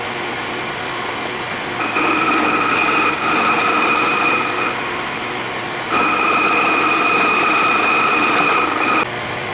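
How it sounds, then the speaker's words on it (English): A South Bend shaper handwheel held in a 3-jaw chuck is faced on a metal lathe, a steady loud motor hum with a tonal whine that rises as the cut engages and drops between passes. "hold this in the 3-jaw chuck and face that off."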